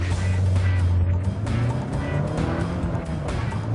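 A Maruti Kizashi sedan with a manual gearbox drives on the road, a loud, close engine drone with steady low rumble and some tire and wind noise, no talk.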